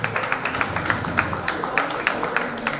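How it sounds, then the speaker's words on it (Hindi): An audience applauds to welcome a guest at a company gathering, a steady run of hand claps spread across the room at moderate volume, with a voice faintly present underneath. "स्वागत में सभी ताली बजाइए"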